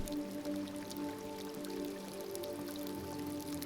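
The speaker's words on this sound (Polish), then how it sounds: "W ogóle pada deszcz. Pada deszcz." Rain falling in the video game Detroit: Become Human, a faint, steady patter of drips and drops on surfaces with a soft, even background wash and no talk.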